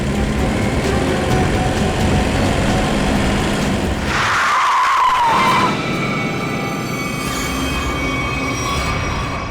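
A car skids, a loud tyre squeal rising mid-way over heavy traffic rumble and a rushing roar, with no talk.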